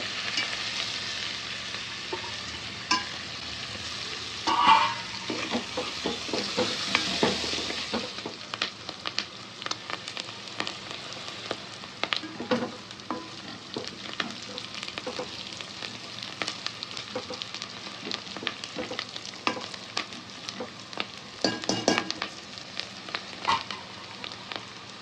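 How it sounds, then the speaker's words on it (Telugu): Spices, garlic, onions and green chillies fry in a pan and are stirred, a steady soft sizzle with intermittent scraping, close and fairly quiet, while coconut rice with chicken curry is being cooked. "మసాలాలు వేసి ఎల్లిపాయ, ఉల్లిపాయలు,"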